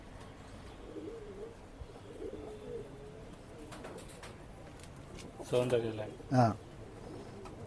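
Flying pigeons at a bird sale in Bangalore give soft, low cooing calls, faint at first and then a couple of louder nearby coos, while people talk quietly.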